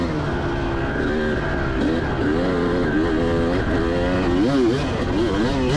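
A 2004 Kawasaki KX250 two-stroke motocross bike revs hard on a dirt track, its wailing engine note climbing and dropping repeatedly in close, continuous bursts.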